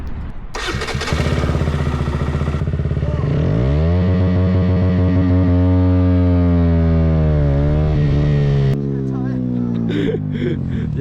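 A motorcycle revs up loudly and accelerates during a race against a BMX bike, its engine pitch climbing steadily and holding a strong, sustained roar before cutting off abruptly near the end, with voices talking over it.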